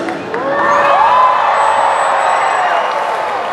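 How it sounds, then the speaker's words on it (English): A large crowd cheers and whoops loudly at the SeaWorld Orlando orca show, children's shrieks and shouts rising together into a sustained, close roar that holds for several seconds. "I want to hear you all give him a great big cheer."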